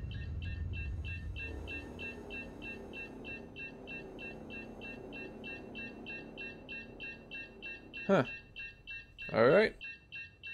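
Repeated electronic beeping alert from a ship in the space game Star Citizen, a regular pulsing tone running under a man's brief spoken remarks, with two sharp louder sounds near the end.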